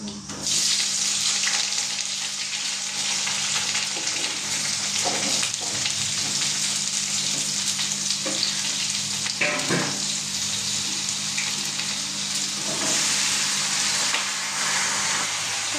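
Vegetables frying in a hot pan of oil seasoned with dried red chilli and nigella seeds, a steady loud sizzle running throughout with occasional stirring scrapes.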